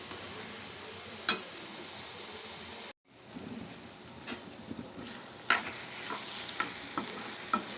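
Ridge gourd curry cooking dry in a pan with no water, giving a steady soft sizzle with occasional stirring clicks, close and fairly quiet, briefly cut out partway through.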